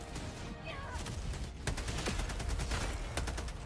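Sentry turret gunfire in Helldivers 2 rattles off in rapid bursts of sharp cracks, dense and loud across the whole stretch with noisy game action behind it.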